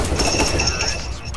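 Rapid gunfire in the game CS:GO, a dense burst of sharp shots with a ringing metallic tone, loud and close over a brief moment with voice chat mixed in.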